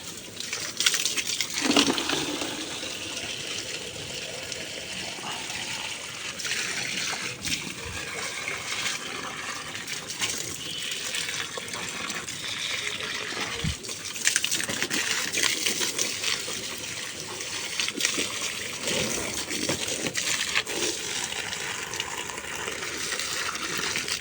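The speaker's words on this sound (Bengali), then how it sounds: "পাইপ দিয়ে পানি দিলে আধা ঘন্টার ভিতরে আমার পানি দেওয়া শেষ হয়ে যায়" A hose pipe pours water over plants in a rooftop garden, giving a long unbroken gushing splash with small patters and clinks scattered through it.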